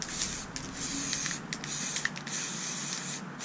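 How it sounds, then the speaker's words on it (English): Games Workshop spray primer hisses from a can onto a 3D printed dice tower on a tray, a steady airy spray broken by brief pauses between short bursts, close and fairly loud. "I have it on one of my trays from the shop, and I'm spraying"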